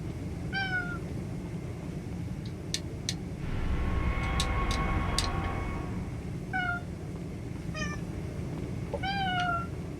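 Several cats meow repeatedly, short close calls scattered across the clip over a steady background hum and a low engine-like drone from a game.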